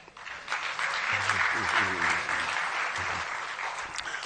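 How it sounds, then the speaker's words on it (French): Sustained audience applause filling a closing ceremony hall, a dense steady wash of many hands clapping for several seconds, with a brief low voice murmuring underneath partway through. "Vous pouvez vous applaudir."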